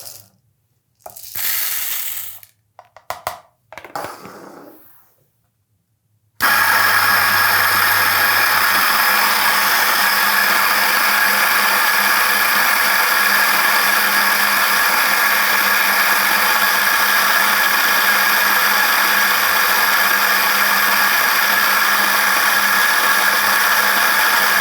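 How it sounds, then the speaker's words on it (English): A Moccamaster KM5 coffee grinder grinding a dose of beans, a steady loud whirring drone that runs continuously for most of the stretch after a few brief clicks and rattles at the start. "So now let's just go ahead and grind this dose out."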